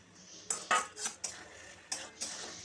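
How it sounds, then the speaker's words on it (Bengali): A spoon stirs shukto made with cucumber and bitter gourd in a metal pot, giving a series of about six sharp clinks and scrapes at uneven intervals, close and clear. "দিয়ে এইভাবে একটু নাড়তে হবে"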